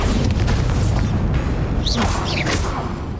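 A Bombarda spell explodes in Hogwarts Legacy on Nintendo Switch, a loud, heavy boom with sustained low rumble throughout, plus brief chirpy magical effects layered on top.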